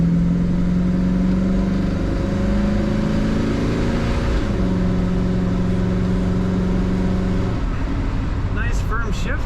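A 1966 Chevrolet Impala wagon with an automatic transmission and a B&M Quicksilver shifter accelerates, its engine drone climbing in pitch and dropping with each firm gear shift. A voice comes in near the end.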